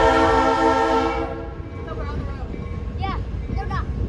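Hobo Railroad tourist train in Lincoln, New Hampshire, its horn sounding long and loud at first, then a steady rumble of the moving cars with faint squealing wheel tones, close by.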